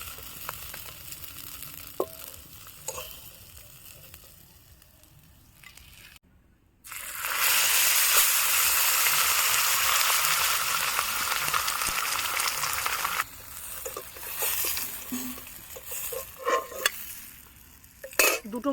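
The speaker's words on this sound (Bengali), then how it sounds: "এবার আমি একটা একটা করে মাছগুলো ভেজে নেব।" Kajal Gouri (chocolate) fish, two weighing about 500 grams together, fry in hot oil. A quiet stretch gives way to a loud, sustained sizzle for several seconds, which then drops back to softer crackling and clatter.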